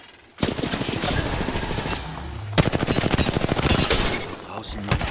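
Gunfire in the video game Apex Legends: rapid automatic bursts of shots in loud sustained strings, broken by a brief pause, with a voice speaking over the shooting.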